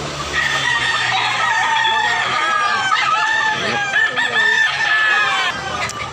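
Several roosters crow one after another at a busy chicken market in Tabunok, Talisay, Cebu, loud and close, with clucking and faint voices in the background.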